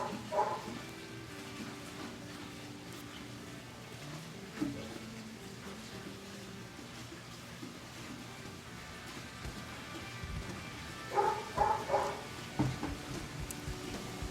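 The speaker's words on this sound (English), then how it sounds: "So shut that dog up." A dog barks in the background of an indoor setting, a short cluster of sharp yips and barks rising near the end over a low steady hum.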